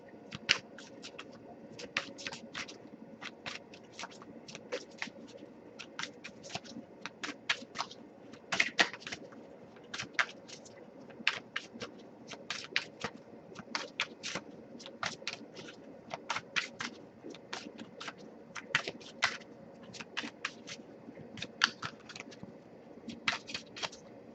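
Tarot cards being shuffled repeatedly up close, a long run of crisp riffling flutters and taps in an uneven rhythm, with no talking.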